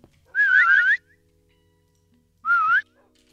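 Two bursts of a trilling, warbling whistle from the Doggy Talents mod for Minecraft, each about half a second long and separated by a short pause, loud and clear against near silence.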